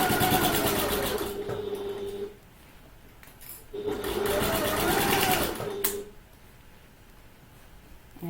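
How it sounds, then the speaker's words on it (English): A sewing machine stitches a Hope handbag in two sustained loud bursts of rapid mechanical whirring, each lasting a couple of seconds, separated by quieter pauses with handling noise. "Let's sew with the bottom on top and then we'll be able to find out, won't we?"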